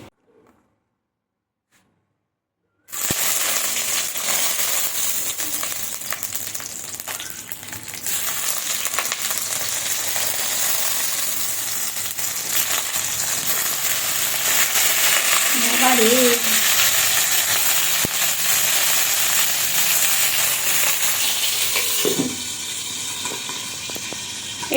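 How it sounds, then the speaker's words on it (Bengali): Something frying steadily in a pan over a low flame for home-cooked Bengali greens and dal, a continuous sizzle that starts abruptly after silence and carries on evenly, with a few clinks of stirring near the end. "আর এটা একটু লো ফ্লেমে ভেজে নিচ্ছি এখন"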